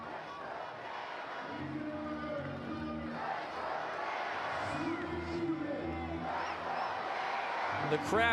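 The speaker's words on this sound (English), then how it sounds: "The crowd trying to will a 2-out rally to occur here." A baseball crowd in Savannah at a Bananas vs Flamingos game, hoping for a two-out rally, cheers and shouts in a rising, surging roar under a play-by-play announcer's talk.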